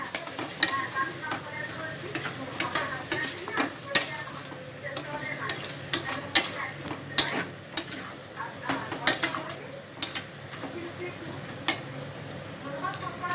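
Katla fish head and bottle gourd curry stirred in a pan: repeated close spoon clacks and scrapes against metal over a continuous low sizzle.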